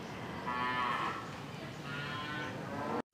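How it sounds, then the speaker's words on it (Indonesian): Cattle moo from a neglected cowshed beside a school in Bogor, two long drawn-out lowing calls close by, with the second call cut off abruptly. "lokasi sekolah yang berdekatan dengan kandang sapi yang tidak terawat"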